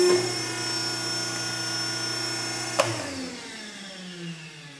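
A steel ironworker machine hums steadily, then gives one sharp punch through steel that leaves a 7/8-inch hole. The motor drone carries on and slowly fades after the hit.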